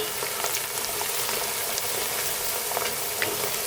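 Greens for Greek boubari sausage filling fry in a pan while being stirred steadily until wilted, a dense, even sizzle with soft crackles running throughout.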